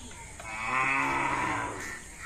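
Medium-sized bulls on a farm in Teghara, Birol, Dinajpur, with one long, loud harmonic moo or bellow rising and sustained near the middle over low background noise.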